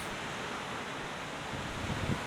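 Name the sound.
ocean waves breaking where surfers wait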